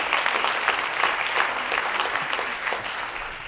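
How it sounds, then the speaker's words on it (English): An audience claps steadily throughout, a full, sustained round of applause with a few louder spikes and no speech over it. "who deserves your round of applause after his long tenure"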